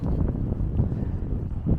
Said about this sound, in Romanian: un punct de belvedere cu un vânt destul de puternic